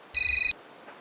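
A single short electronic ring tone sounds once on an outgoing phone call, bright and brief, followed by quiet.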